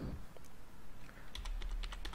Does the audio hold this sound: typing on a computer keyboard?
yes